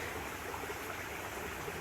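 A creek flows beside a hiking trail in Colonel Denning State Park, Pennsylvania, giving a soft, steady, fairly faint rushing burble with no voices.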